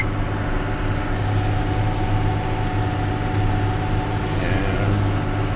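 A tractor engine runs steadily at raised RPM while towing a compost spreader over a field of green wheat, a continuous loud low rumble with a faint rising whine near the end.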